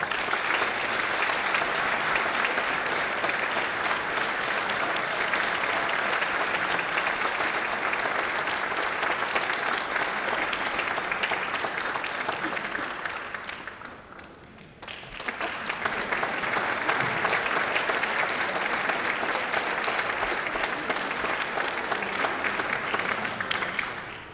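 Sustained, dense applause from the audience at a Christmas and New Year concert by a wind orchestra, loud and even, dipping briefly midway before swelling again and carrying on.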